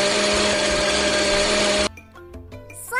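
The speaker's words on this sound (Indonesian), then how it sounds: "Sekarang kita blender yuk, teman-teman." A game blender whirs loudly and steadily as it blends a slushy for ice cream, then stops abruptly and gives way to bright, plinking game music.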